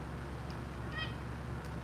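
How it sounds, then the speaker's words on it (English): A pet cat gives a short meow, a brief faint cry partly masked by steady background hum and room noise, with no talking. "It's just my cat chatting with me"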